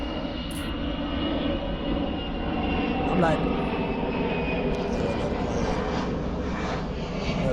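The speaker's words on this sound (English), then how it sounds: "another plane." A fixed-wing airplane passing overhead gives a steady, broad engine roar that fills the whole span, with a person talking briefly over it.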